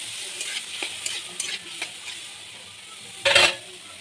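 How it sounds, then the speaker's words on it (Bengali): Tomatoes and spices are stirred and sautéed in hot oil in a pan, with a steady sizzle under scraping stirs and a brief louder sizzling burst near the end; no talking. "এটা আমি ভালোভাবে কষিয়ে নেব।"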